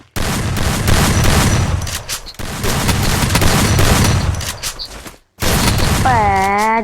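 Gunfire in the mobile game Free Fire, loud bursts of rapid shots filling two long stretches with a short break between them, then a cut and a final burst under a rising electronic tone.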